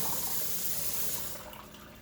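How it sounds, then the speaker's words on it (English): Hamburger meat rinsed under a running kitchen tap, a steady close wash of water splashing into the sink that thins out toward the end, with no talking. "I'm just rinsing it."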